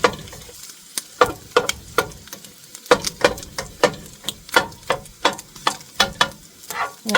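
Microwave rice is stirred and fried in a pan with scrambled egg, giving a rhythmic run of scraping, clattering utensil strokes, roughly two per second, over a soft sizzle.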